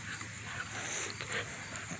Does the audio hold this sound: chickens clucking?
no